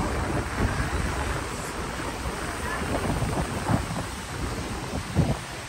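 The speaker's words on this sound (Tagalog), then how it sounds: "Parang umuulan na, Mambon." Rain falls on White Beach, Boracay, during the habagat monsoon season, a steady wash mixed with surf and gusty wind, with a couple of dull low thumps and faint talk in the background.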